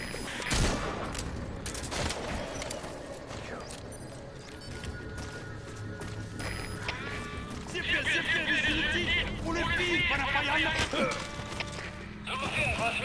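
Bursts of gunfire in Metal Gear Solid 5 during an alert after an intruder, rapid shots cracking amid game noise and music while a voice shouts orders.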